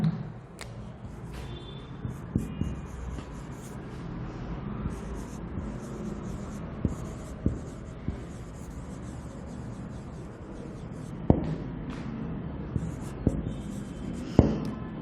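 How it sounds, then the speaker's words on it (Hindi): Handwriting notes with a pen on paper during an English grammar lesson, a steady, faint scratching with a few soft taps, close and alone. "चलिए मैं नीचे लिख देती हूँ इसको, दे वर प्रिपेयरिंग, इसको थोड़ा सा इधर लिख देती हूँ।"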